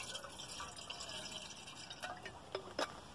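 Water from a small bottle pours into a kettle at night outdoors, a faint gurgling trickle with a few soft drips and splashes near the end.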